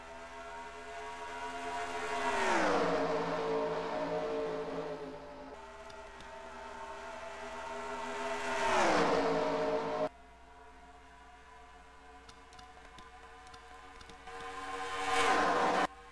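Race car engines roar past at Pocono in NASCAR Racing 2003, with three loud pass-bys whose pitch rises and then drops, and a steady engine drone between them.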